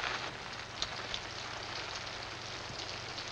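Steady rain hisses continuously, a soft broadband patter on surfaces with a couple of faint louder drops, no one speaking; a street scene in the 1948 film Arch of Triumph.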